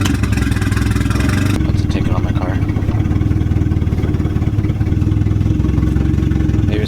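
A Honda Civic 2.0 engine with a vacuum fault and a 6-puck clutch runs with a loud rough, pulsing idle and throttle bursts that fail to rise, close up, with people talking over it.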